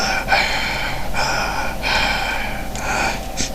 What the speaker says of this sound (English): And that's me breathing.